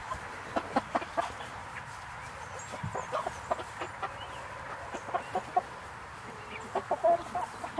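Hens cluck softly in short scattered calls, with a few sharper bird notes over a quiet outdoor background.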